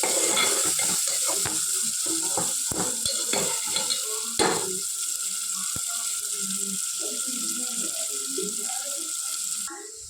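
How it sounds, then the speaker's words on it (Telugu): Tomato, curry leaves and coriander are stirred in a frying pan for a Telugu fish curry, with repeated scraping strokes of the spoon over a steady, close sizzle and no voices. "టమాటో కరివేపాకు కొత్తిమీర వేసుకున్నామండి. ఇది కూడా 4 వైపులా కలుపుకుందాం."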